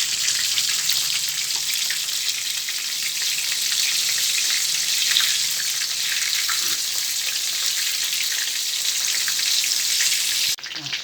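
Shrimp frying in oil over high heat, giving a loud, dense, continuous sizzle that runs without a break and cuts off abruptly at the end.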